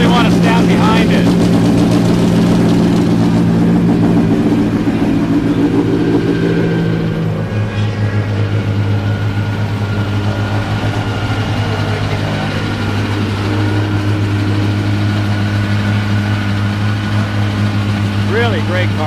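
A vintage Miller race car's loud, deep engine starts and idles, rumbling steadily with a low throbbing tone close by at the Monterey Historic Races, with some voices faintly underneath.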